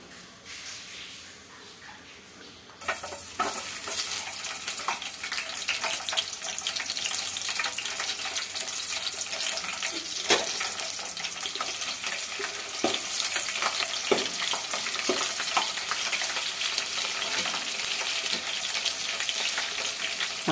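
Garlic, cut into thin strips, fries in plenty of oil in a pan with a steady, close, crackling sizzle that starts suddenly and runs on.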